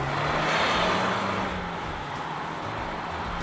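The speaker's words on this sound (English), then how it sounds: "there's like some burbles and almost like crackles from the exhaust." A steady, low exhaust burble from a running car, heard from inside the cabin, with a constant droning note and no distinct pops.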